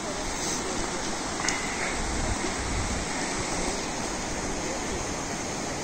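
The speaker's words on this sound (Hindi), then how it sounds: "रिस्पना नदी की कल कल ध्वनि आप सुन सकते हैं" The Rispana river stream near Dehradun babbles steadily, a dense continuous rush of water, loud and close, with no pauses.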